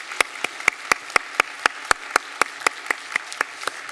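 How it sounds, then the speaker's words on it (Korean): A church congregation gives a round of rhythmic applause during a Sunday service, sharp, evenly spaced claps in a steady beat, fairly close and clear, with no talking over them. "우리 박수로 환영하겠습니다"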